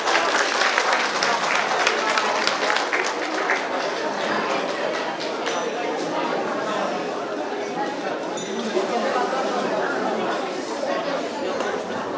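Audience clapping at a folk traditions and customs festival in Poduri, dense sustained applause from a crowd, strongest at first, with people chattering through it.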